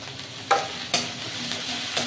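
Dried chili paste fries in hot oil in a pan, giving a steady soft sizzle broken by a few sharp stirring clinks and scrapes, with no voices.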